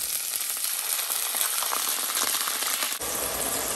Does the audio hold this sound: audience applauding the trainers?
no